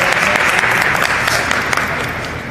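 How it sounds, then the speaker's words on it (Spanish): A roomful of people applauds the CONFE youths who served at a café event, loud steady clapping that stays dense and continuous throughout. "un aplauso para los chavos de CONFE que nos atendieron hoy en este café"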